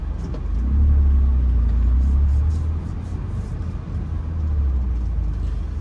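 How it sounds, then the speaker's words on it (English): Bumper-to-bumper street traffic in Kensington, Philadelphia, heard as a steady low engine rumble and road noise from nearby cars, swelling and easing as vehicles creep along. "There's a lot of bumper-to-bumper traffic."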